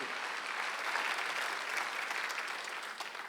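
A church congregation at a Sunday worship service claps in steady, dense applause, heard at moderate distance and continuing throughout without talk.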